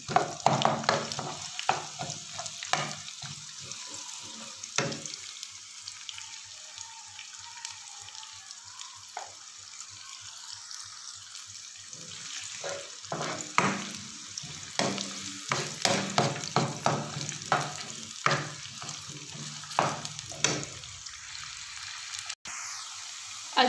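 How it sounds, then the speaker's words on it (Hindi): Chopped onions sautéing in a pan with cumin, cinnamon and whole chillies, a steady close sizzle broken by repeated scraping stirs of a spoon, with no talk. "ये प्याज जो है वो अच्छी तरह सौटे हो गए हैं"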